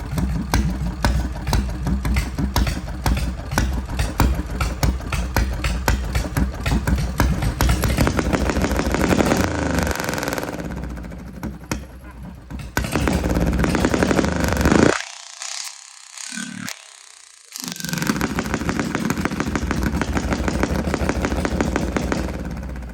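A racing lawn mower engine idles roughly with a rapid, uneven putter, then revs and surges, cuts out briefly twice, and returns to a loud, steady running beat close by.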